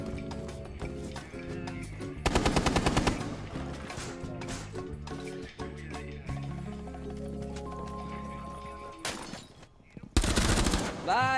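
Gunfire in the Rainbow Six Siege video game arrives in dense rapid bursts, loud and close, set over game music and effects, with a couple of shorter volleys later.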